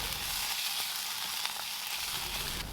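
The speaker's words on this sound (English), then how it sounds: "Add 1 tablespoon of tomato paste and cook out for 1 minute." Minced garlic and tomato paste frying in a pan, giving a continuous dense hiss of sizzling fat, close and steady with a few faint stirring touches and no voices.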